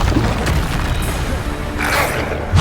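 In Hogwarts Legacy, a Bombarda blasting spell goes off with a sharp boom and crashing burst, then a second bright blast follows near the end, loud and close against a busy battle bed.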